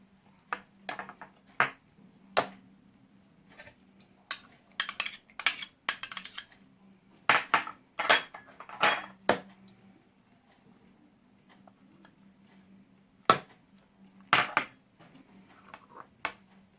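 A spoon stirs and taps against a bowl as spices, yogurt and gram flour are mixed into a fish fry masala, with irregular clinks and scrapes over a faint steady hum.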